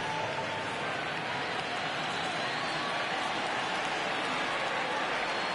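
Stadium crowd in a baseball video game on PS4 rising and cheering as a full 3-2 count comes up, a steady, dense wash of roaring noise filling the whole stretch without letup.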